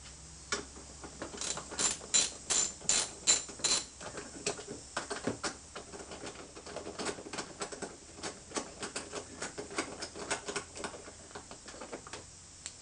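A hand ratchet works a seat bolt loose on a GY6 scooter, giving a fast run of close, sharp clicking strokes in repeated bursts throughout.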